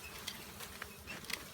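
Honey bees hum in a soft, dense buzz inside an opened beehive, with individual bees' wingbeats flickering in and out close by.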